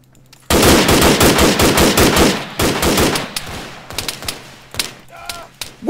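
Rapid automatic rifle fire in the military video game ArmA 3, a loud sustained burst of shots that breaks into shorter volleys and scattered single shots.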